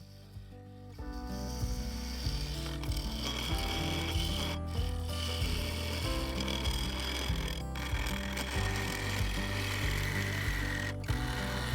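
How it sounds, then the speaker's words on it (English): Segmented bowl blank spinning on a wood lathe, held in a four-jaw chuck with tailstock, as a bowl gouge cuts it: a continuous rasping, scraping cut with a steady motor hum, close and sustained, no voices. "Then I could get on with some wood turning."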